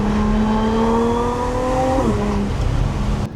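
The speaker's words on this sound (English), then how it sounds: "show you guys me doing a full pull on this car" An Audi S4 fitted with a heat exchanger pulls hard at full throttle, its loud engine tone climbing steadily, with a quick shift near the midpoint before it rises again.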